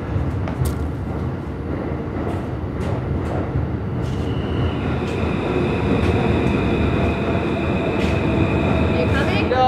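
A subway train pulls in with a heavy rumble, rhythmic clatter and high metallic squeals building as it nears, loud and close, with voices underneath.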